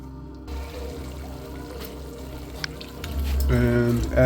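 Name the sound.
pouring extra broth into chicken noodle soup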